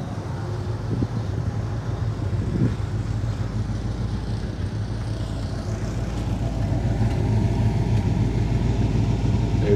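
The screen-used KITT car from Knight Rider idles with its exhaust running, a steady low engine rumble close by over a breezy outdoor background that builds slightly toward the end.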